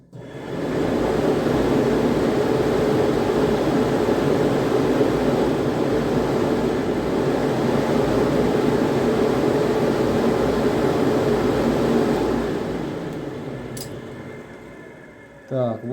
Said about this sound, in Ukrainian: Тепер я беру контрольку, сюди пхаю контакт і сюди, і мають запуститися вентилятори на повну мощність